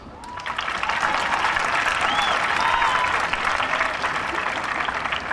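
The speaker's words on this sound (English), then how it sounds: "Seniors, let's show them our gratitude with a round of applause." A crowd at a high school graduation applauds teachers with sustained, dense clapping that swells and holds at full volume, with a few cheers and whistles mixed in.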